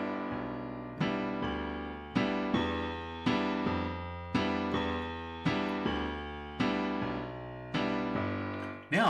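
Boogie woogie piano with the notes held out rather than clipped, a steady rolling bass pattern under sustained chords that ring into each other at an even, moderate pace, played close and clear with no talking.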